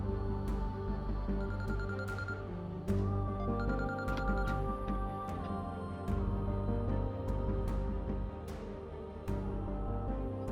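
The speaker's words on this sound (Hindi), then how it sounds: "किसी आयला की कॉल आ रही है आपके फोन पे" A phone rings with an incoming call, its bell-like tones repeating steadily and clearly over a low background bed, with no talking.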